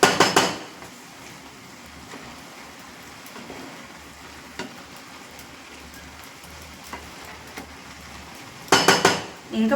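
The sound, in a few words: mixing amaranth leaves and liver in a cooking pot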